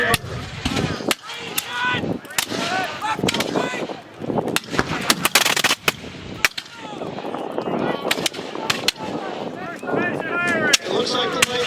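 Musket volleys from British troops at a 250th anniversary Battle of Bunker Hill reenactment in Gloucester, Massachusetts: repeated sharp cracks, some close and loud, others distant, scattered irregularly amid crowd noise and voices.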